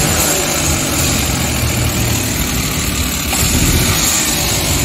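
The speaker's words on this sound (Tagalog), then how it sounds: "Kaya pag nakabuhilo ang makina, okay naman." A Suzuki K6A engine idles steadily in a DA52T with a low-power fault, giving a continuous close rumble with a mechanical whir that holds even throughout, with no talk.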